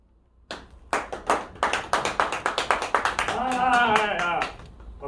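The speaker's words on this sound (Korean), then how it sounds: "박수는 사절하겠습니다." A small group claps, starting with scattered separate claps that build into brief steady applause, with a voice rising over it toward the end.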